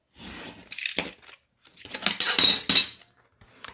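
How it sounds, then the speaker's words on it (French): Utility knife cutting recycled envelope paper along a marked line, close and quiet, heard as short scraping strokes in bursts separated by brief pauses. "Je vais prendre mon cutter et donc, j'ai déjà tracé une ligne à 4 cm et je n'ai plus qu'à venir la couper."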